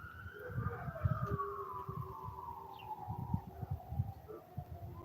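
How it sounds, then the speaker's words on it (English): Wailing emergency sirens rise and fall in the distance, fairly faint, over a low rumbling background of traffic. "You hear the sirens?"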